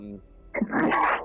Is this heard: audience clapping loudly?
no